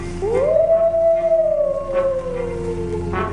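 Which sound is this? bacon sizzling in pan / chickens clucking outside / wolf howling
wolf howling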